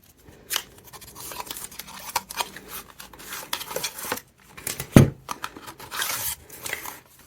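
A cardboard tarot card box being opened and handled indoors: a series of close, crisp scrapes, rubs and snaps in irregular bursts, with brief quiet gaps between them and no talking.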